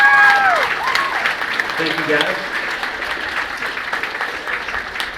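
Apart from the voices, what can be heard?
audience applauding freshman band class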